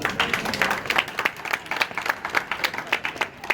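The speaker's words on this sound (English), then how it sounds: "You should applaud that one as well." Applause from an audience at a political rally, a steady patter of many hands clapping throughout with no talk over it.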